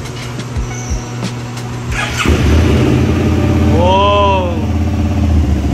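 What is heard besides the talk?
SVT 650x sport motorcycle engine starting with new exhaust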